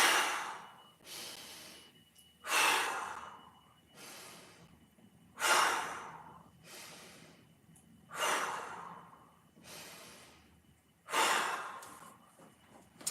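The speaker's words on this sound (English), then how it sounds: "5 big breaths." A person breathes deeply during a mobility exercise, with about seven slow, close breaths, each a loud airy exhale followed by a quiet pause.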